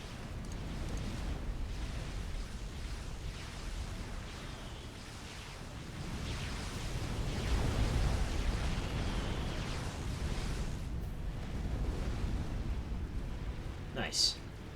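Missile salvos from cruisers and rolling explosions in the real-time strategy game Supreme Commander form a dense, continuous roar of blasts and rumble, swelling mid-clip, with a sharp burst near the end.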